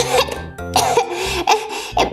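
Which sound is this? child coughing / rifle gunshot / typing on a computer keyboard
child coughing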